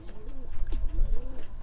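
Roller pigeons coo in a series of soft, rolling calls, close by and fairly steady, in a breeding loft in winter weather.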